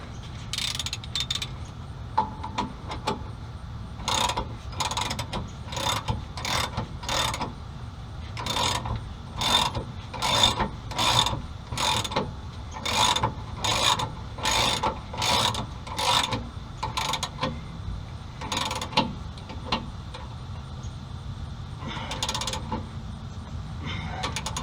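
A ratchet snugs up the rear shock bolts on a Ford Explorer, giving a series of sharp, evenly spaced clicking strokes with short pauses between runs, close and clear.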